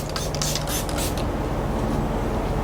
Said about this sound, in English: I wouldn't suggest to spray the face, but being Kyle, you can.